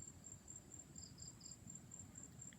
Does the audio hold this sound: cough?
no